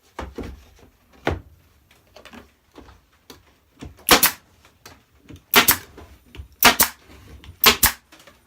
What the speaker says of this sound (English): Staple that to our midline